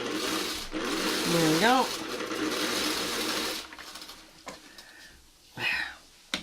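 A sewing machine stitching a Y seam on a meadow flower quilt block runs in a steady whir for several seconds, then stops and starts in short bursts, with a person talking briefly over it.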